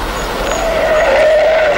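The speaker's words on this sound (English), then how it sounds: "car pulled right in front of you." A car pulls out in traffic with a loud, sustained tyre squeal and skid over steady engine and road noise, close and continuous throughout.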